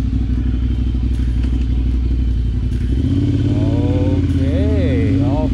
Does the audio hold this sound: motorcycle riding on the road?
yes